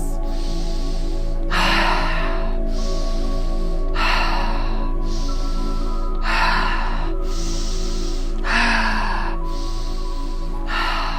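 Rhythmic breathwork session with connected breaths: repeated loud, forceful breath bursts recur in a steady cycle over a continuous background music drone, with no talking.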